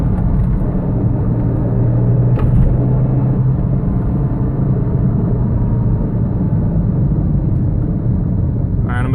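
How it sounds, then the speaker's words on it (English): A Porsche 986 with a faulty transmission makes a steady drivetrain noise while driving, a continuous low rumble and droning whine that runs throughout under the road and engine noise. "it makes a noise regardless of whether the car is warm or not"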